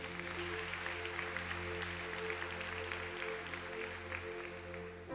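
Congregation applause at a church service, a dense continuous patter of clapping at moderate distance over a held musical pad, steady throughout and slightly faint.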